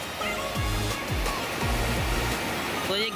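Swollen Ganges river water rushing through the gates of the Narora barrage, a loud continuous roar of churning water with low-pitched tonal sweeps and hums layered over it.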